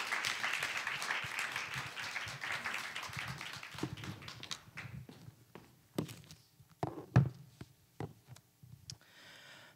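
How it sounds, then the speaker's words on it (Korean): A church congregation applauds in a fairly quiet, spread-out wash of clapping that thins after a few seconds into scattered claps and footsteps. "나오실 때 우리 주님께 영광의 박수 올려드릴까요?"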